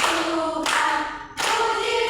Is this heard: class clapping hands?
yes